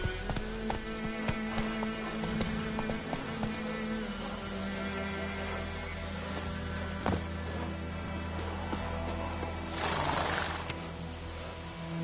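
Hooves of Roach, a horse in The Witcher, clip-clopping at a gallop in a steady rhythm over a continuous humming, buzzing game ambience with insect-like noise, no talk.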